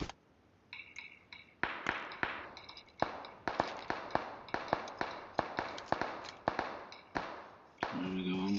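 Gunfire in PUBG Mobile on the Sanhok map: sharp, close single shots crack out in an irregular rapid series, each with a short decaying tail, followed by a brief buzzing tone at the end.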